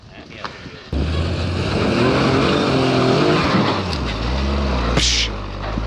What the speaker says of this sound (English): My rig is making all sorts of bad new sounds